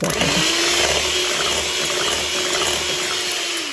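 An electric mixer whirs steadily at close range while beating fruit cake batter with vanilla essence, a loud continuous motor drone with rhythmic mechanical pulsing.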